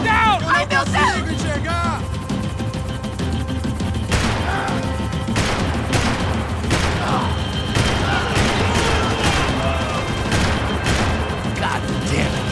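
Gunfire in Max Payne 3, repeated bursts of shots and crashing impacts over a loud, busy action scene, with shouting voices mixed throughout.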